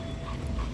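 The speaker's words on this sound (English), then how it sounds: "There's a little doggy coming." A little dog approaches outdoors on a walk, giving a brief, soft snuffling pant close by against steady background noise, with no talking.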